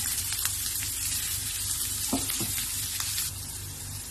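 Cabbage, beans, carrot and capsicum are sautéed with salt in a pan over a high flame, giving a loud, continuous close sizzle with a couple of brief scraping stirs and no speech.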